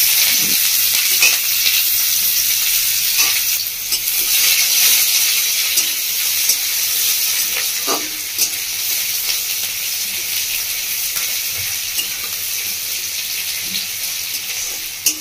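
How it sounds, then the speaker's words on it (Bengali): Chopped onion frying with tempering spices in hot oil for a mango masoor dal, a loud, continuous close sizzle with occasional soft stirring scrapes and no voices. "পেঁয়াজটা খুব ভালো করে ভেজে নেবো ফোড়নের সাথে।"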